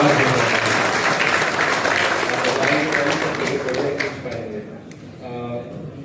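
Dense, loud audience applause at the Bihar Pratibha Samman award ceremony for civil services selectees fades toward the end, where a voice begins speaking over the tail of the clapping.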